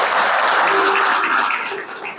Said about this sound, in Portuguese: Não batam palmas,